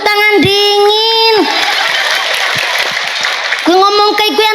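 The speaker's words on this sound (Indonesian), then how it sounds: "Tepuk tangan dingin" Audience clapping at an Indonesian religious lecture, a steady noisy patter of many hands between stretches of a woman's sung or drawn-out voice at the beginning and end.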